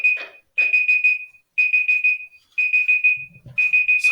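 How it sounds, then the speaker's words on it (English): A timer alarm goes off loudly in repeated bursts of four or five rapid high beeps, each burst separated by a short gap, with a brief soft knock between two of them. "Sorry, I got a timer going off here."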